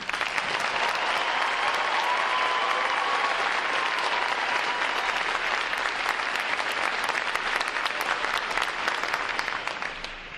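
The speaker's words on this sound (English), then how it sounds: "Please join me in giving them and the six other graduating divisions here today a round of applause" Sustained, dense applause from a large crowd at a Navy recruit training graduation ceremony, a loud, even roar of clapping that holds steady throughout and tapers slightly at the end.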